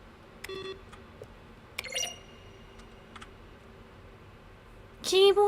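Scattered electronic button presses and keyboard-like clicks from The Stanley Parable video game, sparse and fairly quiet, ending with a louder chiming tone, and a voice talks faintly in the background.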